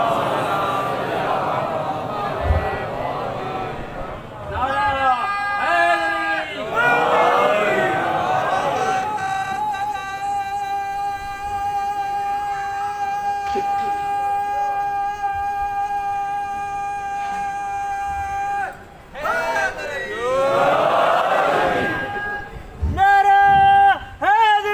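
A mosque audience at a Shia majlis in Hyderabad chants religious slogans in loud collective bursts, rising and falling in several waves with a long sustained call between them, while a voice speaks over parts of it.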